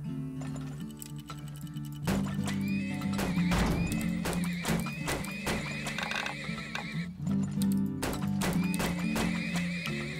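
Horses neigh and whinny repeatedly in the video game Turmoil, loud game sound effects with clip-clop hoof ticks and clinks over a steady musical background.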